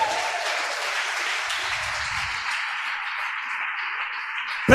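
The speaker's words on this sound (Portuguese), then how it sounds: "Dê uma salva de palmas para Jesus." Church congregation applauding during a sermon, a steady wash of clapping heard at moderate distance, with a brief loud knock at the very end.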